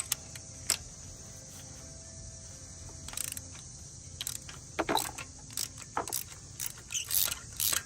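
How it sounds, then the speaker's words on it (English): A ratchet and spark plug socket work a spark plug out of a cylinder head, with quiet metallic clicks and short bursts of ratcheting that grow busier toward the end over a faint steady hiss. "So the next step is to pull the spark plug out of the cylinder head."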